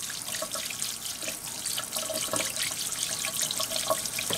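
Hot water pours and splashes steadily onto a centipede, a close, continuous trickling and spattering stream with small droplet ticks, heard alone without talk.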